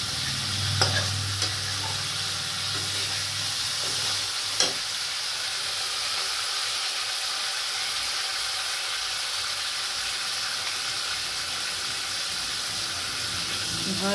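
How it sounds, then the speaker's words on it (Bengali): Spice paste sizzles and is stirred in a pan for a hilsa fish curry with egg, a steady close frying hiss with a few scraping strokes near the start. "ভালো করে মশলাটা কষাবো।"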